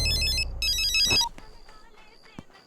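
A mobile phone ringtone plays a bright repeating electronic melody for about a second, then cuts off, leaving faint rustles and a soft knock.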